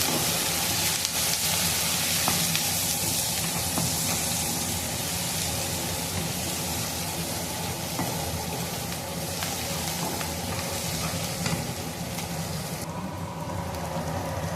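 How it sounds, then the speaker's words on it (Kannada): Mutton with mint leaves sizzles in oil and ghee, a dense, continuous hiss and crackle close up that runs unbroken to the end. "ಇದು ಇದರಲ್ಲೇ ಎಣ್ಣೆ ಮತ್ತು ತುಪ್ಪದಲ್ಲೇ ಚೆನ್ನಾಗಿ ಫ್ರೈ ಆಗಬೇಕಿದು"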